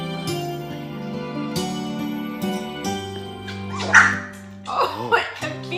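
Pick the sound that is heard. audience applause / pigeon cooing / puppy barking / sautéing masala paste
puppy barking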